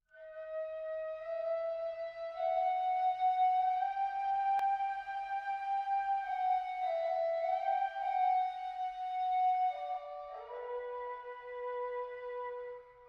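Music from the Warcraft video game: a sustained, melodic synthesized or orchestral line with layered harmonics, steady and moderately loud throughout, shifting to a lower phrase near the end, with no voices.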